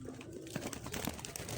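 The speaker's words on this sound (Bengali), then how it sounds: "কত সুন্দর কবুতর নিজে নিজে গোসল করতেছে" Pigeons bathe in a shallow dish of alum water, with close, soft splashing and fluttering plus a few coos throughout.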